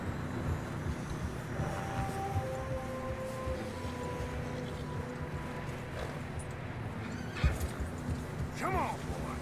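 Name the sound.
horses in a video game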